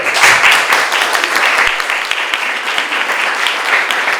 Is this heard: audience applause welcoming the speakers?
yes